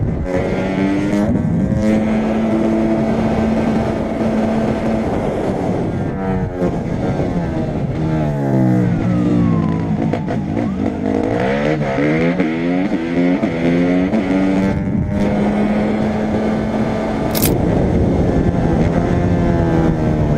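Motorcycle engine racing hard during a police chase, loud and close throughout, with its pitch rising and falling through repeated acceleration and gear changes, and no talk.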